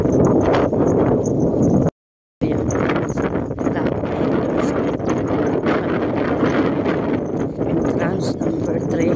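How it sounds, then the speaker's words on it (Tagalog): Strong wind gusting steadily across an open outdoor path during a jog, a loud broadband roar buffeting the microphone throughout, broken by a brief dropout near the start. "Medyo malakas yung hangin."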